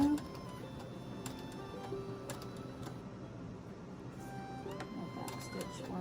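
A sewing machine backstitches and stitches forward while sewing a large shopping bag, a steady close mechanical whir with ticking needle rhythm running throughout, with brief pauses and a voice counting over it.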